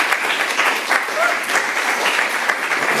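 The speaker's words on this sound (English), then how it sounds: "Please give them a warm round of applause" A conference audience applauds the panelists, dense steady clapping from many hands filling the room at close range, with no one speaking over it.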